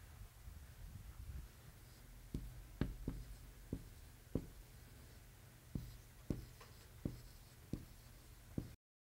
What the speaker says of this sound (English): I'll write down some of mine